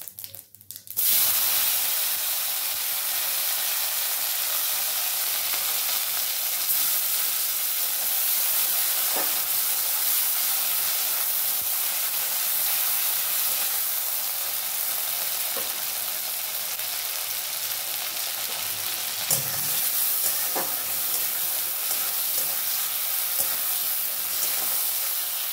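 Whole cumin seeds, just a small pinch, sizzle in hot oil, making a steady, close crackling hiss that runs unbroken for the whole stretch with no voices.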